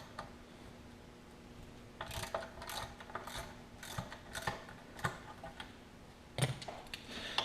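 A ratchet wrench backs out the front cover fasteners on a Kawasaki JS550 jet ski engine: quick bursts of clicking pawl strokes in irregular runs, fairly close, over a faint steady hum, with no talking.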